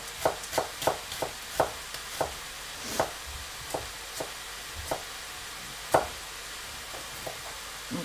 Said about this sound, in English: I'm going to cut this up